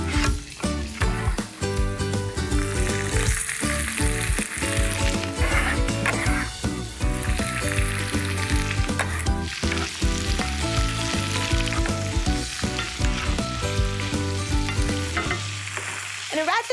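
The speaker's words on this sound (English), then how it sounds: "I've got a screaming hot skillet, and I'm about to add in some red peppers and some onions." Red peppers and onions sizzle loudly in a screaming hot skillet, a dense continuous frying hiss with stirring clatter throughout, up close and uninterrupted.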